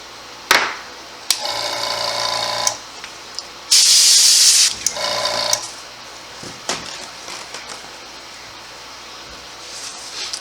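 Airbrush loaded with light blue-green paint spraying onto a skinned-face latex mask, several short hissing bursts separated by pauses, one longer and louder burst in the middle, close up with faint taps between.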